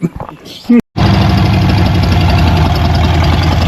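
An old Ford engine cranks and catches, then settles into a loud, steady, rough-running idle close by, with a fuel leak present and a brief voice before it fires.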